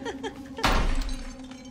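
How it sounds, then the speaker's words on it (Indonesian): An apartment window breaks with a sudden loud crash, and the glass shatters and rings out over about a second. The burst stands out sharply against a quiet indoor background. "ternyata salah satu jendela apartemen pecah"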